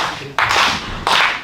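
An audience in a clapping game claps twice in sharp unison, each burst about half a second long and fading quickly, with faint room noise between.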